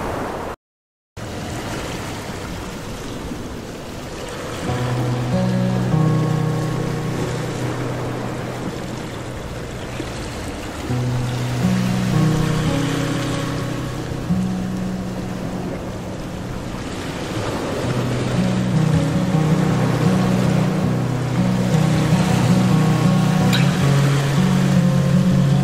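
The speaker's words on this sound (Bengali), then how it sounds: "স্রোতটা একবার লক্ষ্য করুন, অসম্ভব গতি নিয়ে যাচ্ছে জলটা" A fast river current rushes near the India–Bangladesh border on the way to Dawki among the hills, a constant broad roar buffeted by wind on the microphone, with a steady motor drone humming underneath.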